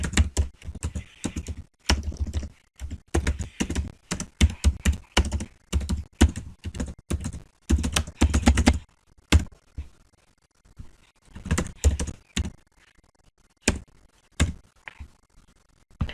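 Fast, close typing on a computer keyboard, crisp key clicks in dense bursts broken by short pauses, with sparser keystrokes and a few heavier thumps toward the end.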